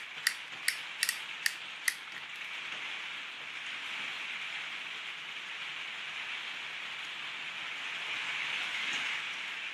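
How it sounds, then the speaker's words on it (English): Clutch mechanism in a Tomy Big Big Loader toy from the Thomas the Tank Engine line clicking over during a teardown, a quick run of sharp clicks at the start, then a steady hiss of hard rain on a surface. "Make it click over the clutch mechanism."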